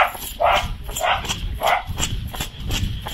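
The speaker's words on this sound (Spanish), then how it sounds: "¡Qué montón de perros!" A pack of dogs barks in a loose repeating rhythm, three strong barks followed by fainter ones, fairly close and loud against outdoor background noise.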